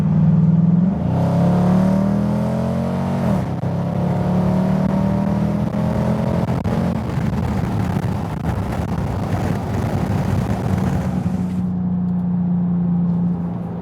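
A Dodge Durango R/T with a straight-pipe exhaust pulls away with the windows down. Its deep engine drone climbs in pitch through the gears, loud and close, with rushing wind noise in the cabin.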